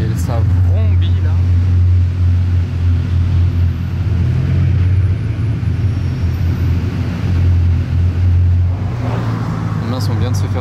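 Three Bugatti Chiron hypercars, including a Super Sport, drive in convoy up a road toward La Turbie, their engines giving a loud, steady, deep roar that swells and eases, with occupants talking over it.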